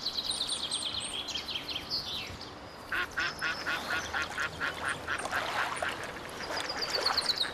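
Mallard ducks quack and squabble beside the water, a run of harsh, overlapping calls over a steady outdoor background, moderately near.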